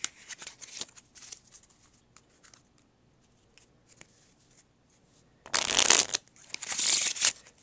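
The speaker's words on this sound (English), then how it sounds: "I'll just give the deck a couple cuts." A deck of playing cards cut by hand: faint card taps and slides at first, then two louder riffling, ruffling bursts of cards near the end, with no talking.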